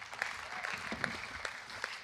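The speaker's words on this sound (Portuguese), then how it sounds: "Aplaudo o Senhor Jesus." A church congregation applauds during a worship service in a soft, continuous patter of many hands, faint and distant, with a few sharper claps standing out.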